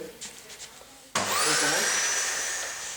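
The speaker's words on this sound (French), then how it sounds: "on va commencer à aspirer toute la saleté" A vacuum cleaner sucks up sanding dust from a Porsche 911 Targa top frame during restoration, switching on abruptly after faint scraping and settling into a loud, steady whine with a rising tone.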